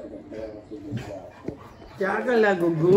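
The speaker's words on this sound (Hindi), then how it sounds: "नीचे बिल्डिंग में कुत्ते भौंक रहे हैं" Dogs in a building below bark and yip, giving a few sharp calls and whimpers that rise louder toward the end, mixed in with a person talking.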